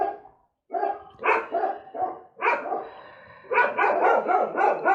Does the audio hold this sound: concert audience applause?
no